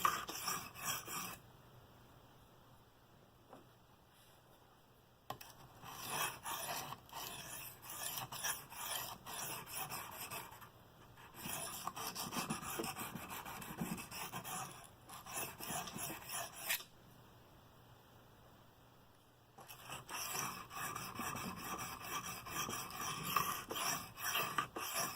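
Bestech Scimitar knife sharpened freehand on a stone, giving long stretches of steady gritty rasping strokes in repeated runs separated by brief pauses, close and continuous against a faint background hum.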